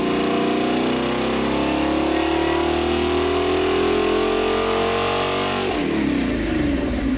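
A rebuilt Pontiac 326 stroker V8 on an engine dyno after break-in revs hard, its loud, steady roar climbing in pitch for several seconds before the throttle snaps shut and the engine drops back, with no talking.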